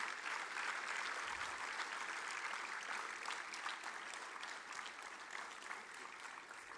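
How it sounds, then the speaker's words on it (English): An audience at an institute inauguration ceremony applauds continuously, a dense even patter of clapping that holds steady throughout and fades slightly toward the end. "let's have a big round of applause for this historic moment"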